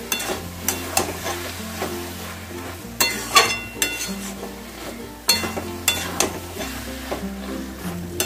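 Bottle gourd with small shrimp stir-frying in a pan: a steady sizzle runs throughout while a spatula scrapes and stirs in repeated strokes, close and fairly loud, with no talking.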